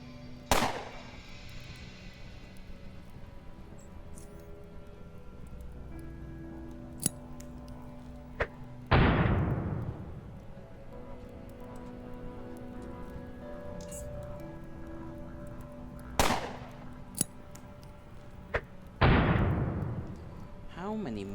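Grenades and gunfire in UnderRail come as a few sharp, loud blasts spaced several seconds apart, each fading quickly over a quiet low hum while a person talks.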